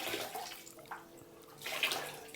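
A wet sponge wipes grout across small ceramic tiles on a dining room accent wall, giving soft, close, watery swishing strokes in two main passes.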